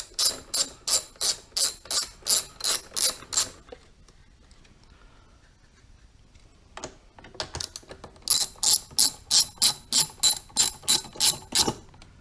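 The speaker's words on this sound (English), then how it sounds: "I can't imagine anyone wants to watch me slowly, clumsily take out 4 bolts." Four bolts being removed from a Delphi ECU on a CSC RX4 motorcycle, a ratchet clicking in two steady runs of rapid, close ticks separated by a quieter pause with a few small handling noises.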